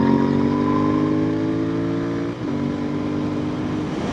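A Royal Enfield Continental GT 650 motorcycle on the move, its exhaust a steady close drone that holds pitch, dips briefly as the throttle eases, then picks back up.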